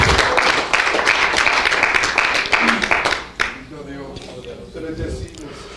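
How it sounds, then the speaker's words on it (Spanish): Churchgoers break into applause during a sermon, steady clapping for about three seconds before it tapers off, with a preacher's voice continuing over and after it. "Denle un aplauso a Jesús."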